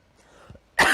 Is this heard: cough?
yes